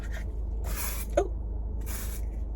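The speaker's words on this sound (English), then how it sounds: "I apply this little like Dove mini spray or deodorant spray." A Dove mini deodorant spray can is sprayed in two short hissing bursts at close range, with a soft click between them. Nobody speaks, and the room is otherwise quiet apart from a low hum.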